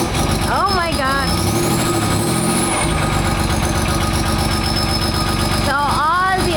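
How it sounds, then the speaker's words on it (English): A bare Land Rover V8 engine runs steadily throughout, a continuous loud rumble with rattles, while people talk over it. "Why, it sounds like a V8."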